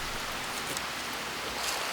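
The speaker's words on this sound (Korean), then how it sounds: "저 밑에 계곡의 물소리밖에 안 들리잖아요" Water rushes in a stream in the valley below a birch forest, a soft, continuous hiss with no breaks and no voices.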